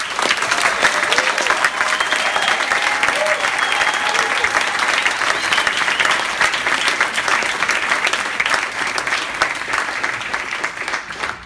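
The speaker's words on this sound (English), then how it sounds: "So can you put your hands together for Allison Crow?" Sustained audience applause welcoming Allison Crow to the stage at a talk. It holds a steady, dense clapping texture for the whole stretch and fades slightly at the end.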